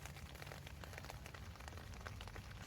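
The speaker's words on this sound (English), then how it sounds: "Oh yeah, it's really raining out there." Steady rain patters densely on a surface outdoors, a constant soft hiss with no voices.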